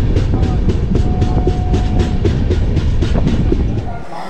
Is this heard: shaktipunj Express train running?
yes